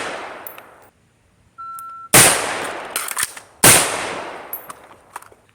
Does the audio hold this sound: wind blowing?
no